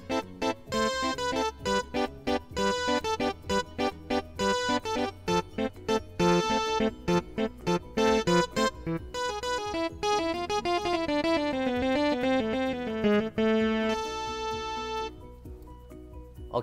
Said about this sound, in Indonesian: Dan yang terakhir saya mau coba suara akordeon